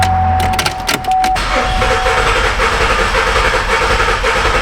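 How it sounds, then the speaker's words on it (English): A 2012 Buick Enclave's 3.6 V6 cranks over loudly with a low-compression cylinder, the starter churning in a steady, uneven rhythmic chug close by, a brief tone and clicks at the start. "Did you guys hear the cadence of that crank?"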